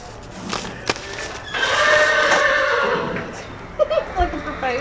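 A horse whinnies loudly nearby in a barn, a long drawn-out neigh followed by shorter snorts and stamping, with people talking in the background.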